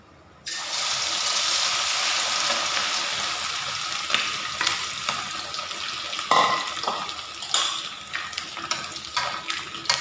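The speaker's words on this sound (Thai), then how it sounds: "น้ำมันของเฮาก็ได้ทีแล้วเริ่มร้อนแล้วเราก็เทลงเลยเนาะ มันก็สิทอดปัดเดียวเลยนะ" Breaded chicken pieces dropped into hot oil burst into a loud, dense frying crackle that starts abruptly and continues steadily, with a few sharp pops and spatters near the end.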